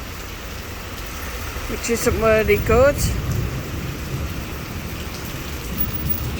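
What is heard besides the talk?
rain and thunder in an electrical storm in Benidorm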